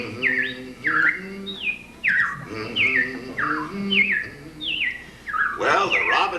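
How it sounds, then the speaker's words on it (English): Robins chirp in the Carousel of Progress animatronic show: a series of bright, descending whistled notes repeats in quick bursts, loud and close, over softer lower cooing tones. "Well, the robins are back."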